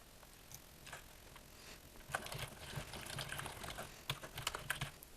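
Quiet, steady tapping on a computer keyboard while a message is typed, with irregular clusters of soft keystrokes and brief pauses, heard alone in a still room.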